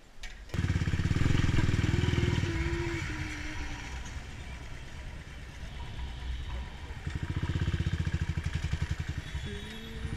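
A Royal Enfield motorcycle rides along a highway in the early morning, with a continuous engine thrum under heavy wind rush and the pitch rising and settling as the revs change.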